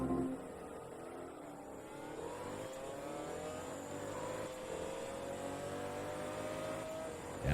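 An upgraded 20th-century supercar engine accelerates in the racing video game Forza Motorsport 2, a sustained rising engine drone with climbing harmonic tones across several seconds, steady and fairly loud with no talk.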